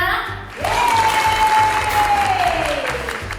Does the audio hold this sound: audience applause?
yes